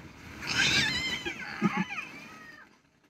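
A single drawn-out cat meow, fairly faint and close, rising then trailing off into quiet.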